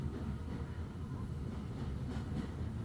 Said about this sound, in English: The train was slowing down.